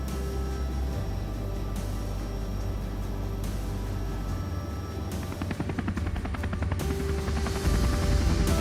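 Helicopter landing at a helipad near the falls, its steady loud rotor thrum and turbine whine continuing, with a rapid blade chop growing more pronounced toward the end.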